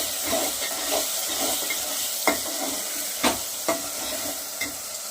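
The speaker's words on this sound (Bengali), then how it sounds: "আমি মশলাটা খুব সুন্দর করে কষিয়ে নেব। একটা টমেটো দিয়ে দেব এর সাথে।" Spice masala with tomato frying for mutton mince, a steady close sizzle and hiss with several sharp scrapes and knocks of a spoon stirring against the pan, no voices.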